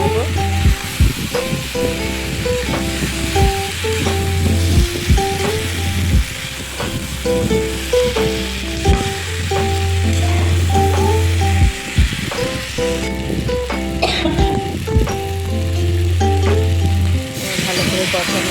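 Previously fried potatoes sizzle steadily in a pan as they are sautéed for a snakehead (shol) fish curry, with intermittent stirring and scraping over a background of recurring music.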